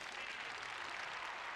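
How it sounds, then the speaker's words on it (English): Faint, steady applause from a grandstand crowd at the Chinese Grand Prix in a PS4 racing game, a continuous soft patter of clapping heard from a distance. "I do hear a lot of claps in the grandstand."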